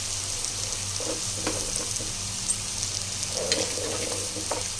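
Beans and broad beans tossed into a pan of frying vegetables for hotel-style sambar rice, sizzling steadily with a soft hiss and a few light stirring clinks, close by.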